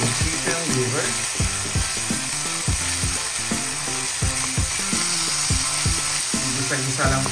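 Chicken liver and ginger sizzle loudly in a hot pan, a dense continuous frying hiss broken by repeated scraping and stirring knocks from a utensil, close and steady throughout.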